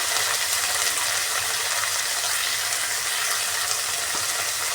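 Cut beans and potatoes frying in a pan, a steady, loud, close sizzle with faint stirring scrapes, no voices over it.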